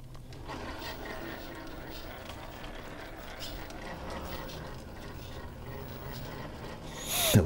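An RC crawler truck with Hobbywing motors drives outdoors, giving a steady, faint mechanical whir and gear chatter under ambient noise, ending in a short louder burst.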